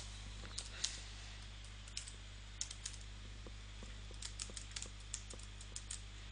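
Computer keyboard typing, quiet and close, with irregular light key clicks in short bursts over a steady low hum, no voices.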